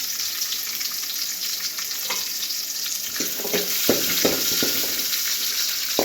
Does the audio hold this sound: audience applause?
no